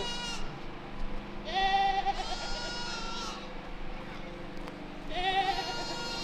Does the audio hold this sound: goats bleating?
yes